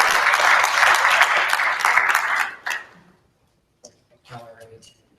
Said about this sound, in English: could you give a round of applause to our next speaker, Brother Austin Spann